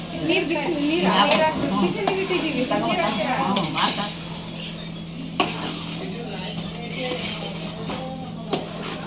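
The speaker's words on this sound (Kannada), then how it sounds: "ಉಪ್ಪು ಖಾರ ಹತ್ತಂಗೆ ತಿರುಗಿಸ್ಬೇಕು" Rice for chicken biryani, seasoned with salt and chili, is stirred in a pot with a scraping, sizzling rhythm for the first few seconds, followed by quieter clinks and a couple of sharp taps.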